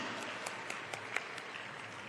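An audience applauds faintly and from a distance at a government event where the Rajasthan chief minister launches a short film, with scattered claps standing out over a steady wash of clapping.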